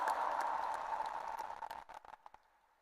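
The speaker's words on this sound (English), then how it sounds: "can we, all the cyclists, have round of applause to NIN Pune?" Cyclists at a Naturopathy Day event in Pune give a round of applause, a soft steady patter of clapping that thins into a few scattered last claps and fades out.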